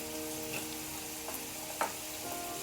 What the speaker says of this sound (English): So while your onions are frying